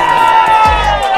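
Crowd cheering on teams at a running event, a burst of shouts and whoops with a loud thump partway through, voices mixed in the noise.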